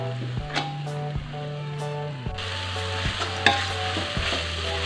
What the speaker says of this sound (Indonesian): Aduk sampai semuanya tercampur rata